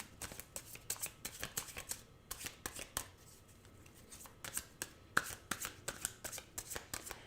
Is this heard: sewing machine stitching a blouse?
no